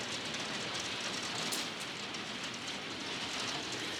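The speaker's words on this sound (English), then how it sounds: "Just started hailing outside." Hail falls outside as a dense, continuous hiss of pelting ice on surfaces, steady and loud throughout with no pauses and no voices.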